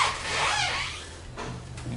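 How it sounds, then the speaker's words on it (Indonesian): A wheel rolls over hard tile with a rough, grinding rasp that swells and then fades after about a second. "Ini suara roda ketika di atas keramik."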